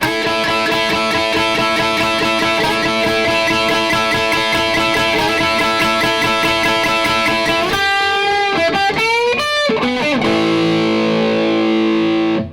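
A heavily distorted electric guitar plays a loud, driving riff with chugging notes, then bends and slides into sustained chords near the end.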